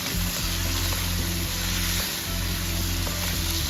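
Chicken pieces for chilli chicken frying in oil after salt is stirred in, with a loud, constant hiss of hot oil over a steady background hum.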